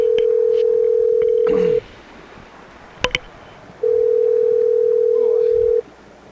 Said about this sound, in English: I'm calling Freddie the producer right now